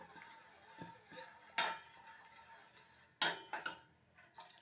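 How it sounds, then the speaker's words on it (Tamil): Quiet scraping and occasional sharp metallic clinks of a utensil stirring jaggery syrup in a pan for peanut burfi, irregular and close, with soft background noise. "மறுபடியும் கிண்டிக்கிட்டே இருக்கணும்"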